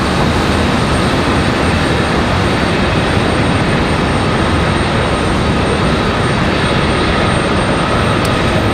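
A Southwest airliner holds at the end of the runway at Raleigh Durham airport, its jet engines giving a loud, unbroken broadband roar that stays steady and close throughout.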